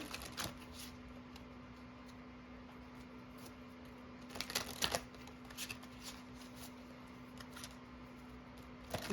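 Tarot cards being shuffled and pulled: quiet papery riffles and soft flicks, with a denser burst of shuffling midway, over a faint steady hum and no talk.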